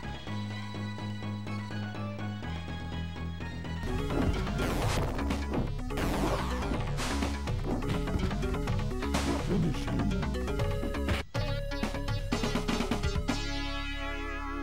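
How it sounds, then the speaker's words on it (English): Mortal Kombat on the Sega Genesis during a pit fatality, loud synthesized game music with a burst of crashing, smashing impact effects in the middle, then the music carries on. "good pit fatality"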